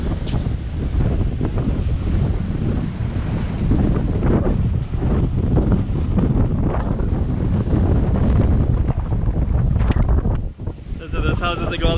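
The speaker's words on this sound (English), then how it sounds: "It's windy. Really windy day." Strong typhoon wind along a seaside road in Macau, roaring and buffeting the microphone in a loud, unbroken rumble that briefly dips near the end. Faint talk may sit under the wind.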